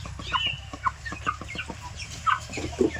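Tiger breed chickens on a poultry farm clucking close by, with several short overlapping clucks and calls in an irregular rhythm over a low steady background hum.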